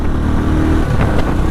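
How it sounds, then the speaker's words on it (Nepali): A motorcycle engine is held at full throttle, a loud, close, sustained roar with a rough steady drone that barely varies, no voices over it. "ल हेर्नु म फुल थ्रोटल दिइरहेको छु"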